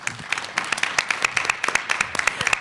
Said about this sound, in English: Let's all give a big round of applause to William